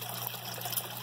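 Water trickles steadily through translucent overflow siphon tubing, a close, continuous burbling flow without speech.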